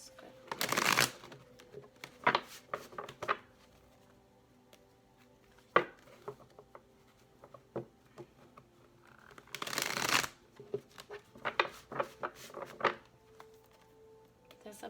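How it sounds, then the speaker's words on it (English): A deck of tarot cards is shuffled up close in a quiet room, with two longer riffling bursts separated by scattered soft taps and flicks of the cards. "This will be our final shuffle"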